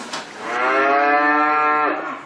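A Montbéliarde dairy cow on a farm gives one long, loud, close moo lasting about two seconds, heard alone without talk.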